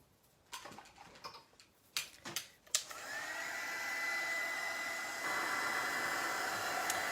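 A heat tool dries rust paste on the front of an old camera: a few scattered ticks and clicks, then a steady, fairly quiet blowing whir that runs on to the end and rises slightly in pitch partway.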